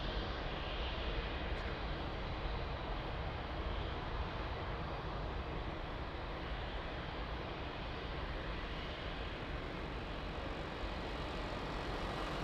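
An airliner departing from runway 02 at Lisbon Airport, with a steady broadband engine roar held loud and constant throughout, distant rumble dominating without breaks.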